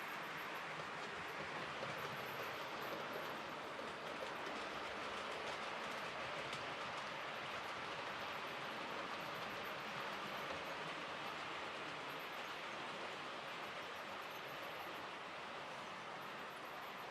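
An Irish Railway Models A-class diesel model train runs steadily along its track, a continuous close rattling hum with faint clicking over the rail joints and no voices throughout.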